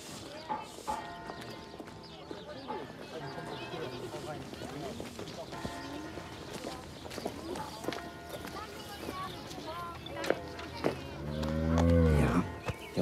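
A cow moos loudly near the end of a rural fairy-tale farm scene, a long low call rising out of background chatter and outdoor activity, with speech heard throughout.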